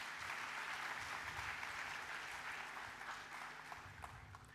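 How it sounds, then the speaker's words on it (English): Applause from the audience at an AI conference session, a steady wash of clapping that holds for several seconds before thinning slightly toward the end, heard at a moderate distance. "Let us have a round of applause for our 2 brilliant co-anchors"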